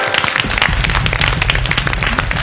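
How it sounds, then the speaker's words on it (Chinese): A studio audience at a televised Spring Festival talk show breaks into sustained applause, a dense steady wash of many hands clapping that holds at full strength throughout. "我建议大家鼓掌向他们表示感谢"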